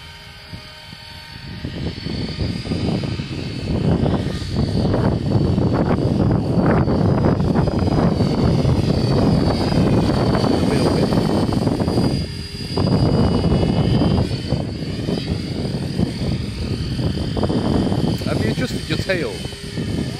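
Trex 550 Beastx radio-controlled model helicopter flying in a park, a steady rotor and motor whine running through most of the stretch, with people talking over it.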